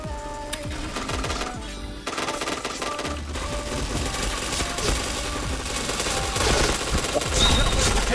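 Rapid bursts of automatic gunfire from a first-person shooter video game crackle loudly and almost continuously, with a few brief pauses, while a player talks faintly underneath.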